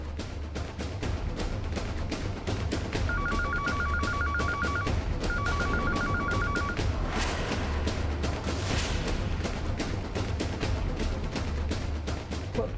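A telephone rings in two bursts of rapid electronic trills, heard over steady clicking and a low hum, with no one talking.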